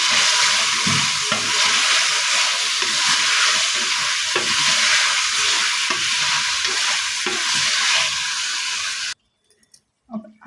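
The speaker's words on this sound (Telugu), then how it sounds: "అది కొద్దిగా వేగిన తర్వాత చికెన్ వేసేసుకోవాలి. చికెన్ వేసిన ఒకసారి బాగా కలుపుకోవాలి." Chicken pieces fry in hot oil in a pan while being stirred, a loud continuous hissing sizzle with spoon scrapes and clatters running throughout, ending abruptly before a few faint knocks.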